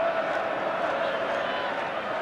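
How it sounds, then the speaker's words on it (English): A Wembley football crowd at the 1984 England v USSR friendly jeers and barracks the England team, a steady, dense roar of many voices filling the stadium throughout. "the Wembley crowd"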